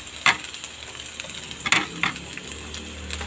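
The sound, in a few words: stir-frying white onions in a pan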